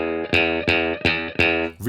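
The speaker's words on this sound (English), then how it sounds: "So you have a really spanky low note" Clean electric guitar playing a low note repeatedly through a ToneX amp capture, each pluck sharp and loud at the attack before quickly fading, four strikes in steady succession with no talking.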